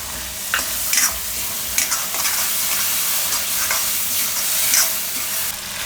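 Gravy for a chana dal and soya chunk curry simmers in a pan with a constant close sizzle, broken by repeated scraping strokes of a spoon stirring through it at an uneven pace.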